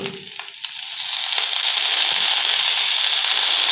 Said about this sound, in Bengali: মানে লাল শাক ভাজি করতেছে